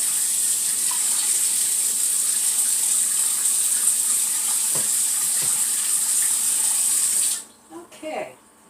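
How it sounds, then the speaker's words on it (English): Water from a kitchen tap gushes steadily and close by as a pan is rinsed under it, then cuts off abruptly near the end, leaving brief clatters and quiet. "I'm just going to rinse this pan out a little bit"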